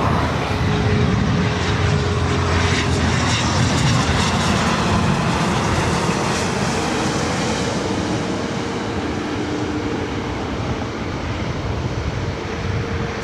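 A jet airliner arriving at LAX, likely a flight from Seattle, roars loudly and steadily throughout as a broad, sustained engine rumble with no talking.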